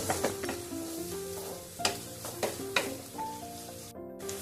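Ginger, garlic, green chilli and onion sizzle in hot oil in a pan while a spatula scrapes and stirs in repeated close strokes, with soft music in the background.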